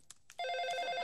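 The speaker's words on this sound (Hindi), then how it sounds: "शायद किसी का कंसोल के पास फोन बज रहा है" A mobile phone rings near a sound console in a Hindi film scene: two soft taps, then a bright, rapidly trilling electronic ring starts and continues loudly to the end.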